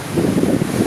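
Steady wind buffets the microphone on the open deck of a cruise ship at sea in Alaska, a continuous loud rush with no talking.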